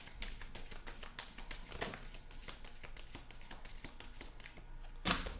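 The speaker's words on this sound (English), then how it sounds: "And the 11th shuffle." A deck of tarot cards is shuffled by hand up close, giving a rapid train of crisp papery flicks and taps with a louder riffling burst near the end, with no talk over it.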